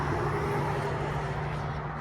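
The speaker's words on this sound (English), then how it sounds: "I'm sorry about the road noise. I am so next to a busy street" Steady road traffic rumble from a busy street, a constant low drone of passing vehicles with no breaks, fairly loud and close.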